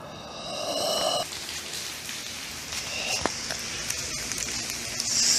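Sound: rain falling

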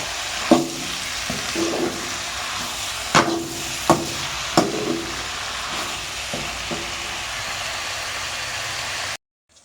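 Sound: onions and tomatoes sautéing in a pan

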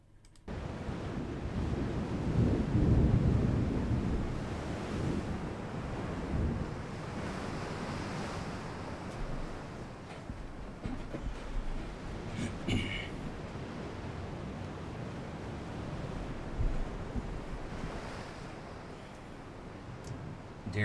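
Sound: stormy sea waves and wind in Ultimate Admiral Dreadnoughts video game

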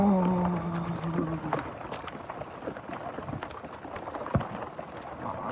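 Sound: heavy rain with wind during a storm

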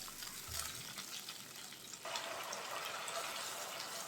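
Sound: spice paste frying in a pan

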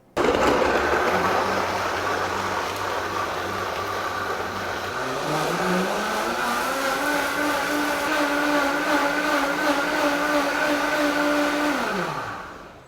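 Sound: high-speed blender making juice

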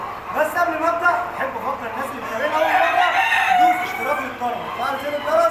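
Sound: Habahib rooster crowing

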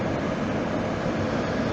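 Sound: Pesa Elf electric train

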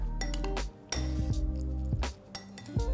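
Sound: mixing yogurt raita with salt and spring onions in a bowl

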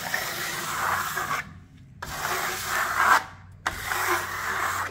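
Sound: smoothing decorative plaster with a trowel

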